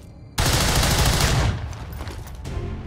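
Soldiers open fire in the XCOM 2 video game: a sudden, loud, dense volley of gunfire holds for about a second. A rougher, slightly quieter rattle of shots and effects continues after it, with no talking.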